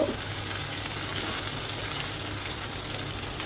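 Garlic, green chillies, shallots and curry leaves sautéing in a pan, a steady close sizzle and crackle of frying with no pauses.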